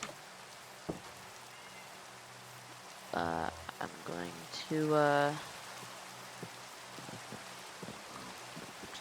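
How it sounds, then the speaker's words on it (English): Steady rain falling in a Minecraft-style farming game, a constant soft hiss filling the background throughout while a person talks briefly over it. "and it's raining"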